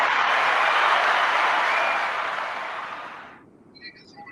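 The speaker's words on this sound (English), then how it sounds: "Can we get a round of applause for our guests," A studio audience gives a round of applause for guests on a sports predictions show, a dense clapping wash that fades out over a few seconds into near silence.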